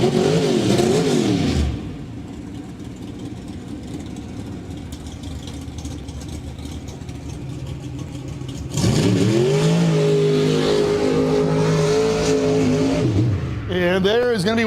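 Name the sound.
1985 Chevy S10 Mudhopper truck engine revving during drag pass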